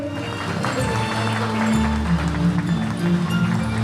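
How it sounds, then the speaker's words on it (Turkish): A crowd of engagement guests in Yozgat, Turkey, claps in a brisk, continuous rhythm for the couple, mixed with loud celebratory music and occasional voices. "Alkışlar daha güçlü"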